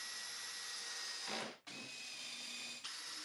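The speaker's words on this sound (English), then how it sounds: "I'm drilling countersunk pilot holes first." Power drill boring countersunk pilot holes in wood for a storage bin cabinet, a steady high whine that dips briefly as the bit pauses, then resumes close and loud.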